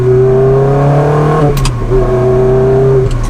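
A Ferrari 360 Spider with a gated manual gearbox revs its engine during a downshift: a loud steady drone, a brief dip and blip near the middle, then a settled engine note again.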